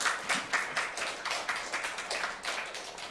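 A church congregation applauds a youth-group graduate receiving a completion certificate at a Sunday service, a steady run of scattered hand claps, moderately loud and close, with no talking.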